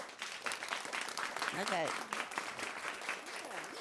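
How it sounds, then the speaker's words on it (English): Audience applause at a high school quiz bowl tournament, a steady wash of clapping through the whole moment with a speaker talking briefly over it. "A round of applause for Arkadelphia."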